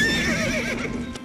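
A horse in a halted army lets out a loud, close whinny with a high wavering pitch, and faint hoof clops follow at the end.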